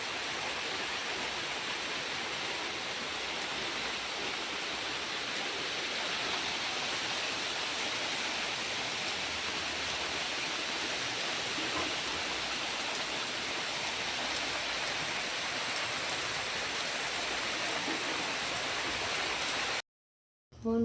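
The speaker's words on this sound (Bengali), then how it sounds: "প্রচুর বৃষ্টি হচ্ছে আমাদের এখানে।" Heavy rain pours down in a steady, dense roar of broadband hiss that is unbroken for about twenty seconds, with no voices, before cutting off abruptly at the end.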